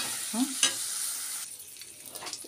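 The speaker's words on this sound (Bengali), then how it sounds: "এই তেলটার মধ্যে এই সব মশলাগুলো দিয়ে দিলাম, মানে মশলাগুলো বলতে গোটা গরম মশলাগুলো দিয়ে দিলাম, দারচিনি, এলাচ, শুকনো লঙ্কা" Whole cinnamon, cardamom and dried chilli hit hot oil with a close, steady sizzle and crackle, a stirring scrape near the start, then settle into a softer hiss.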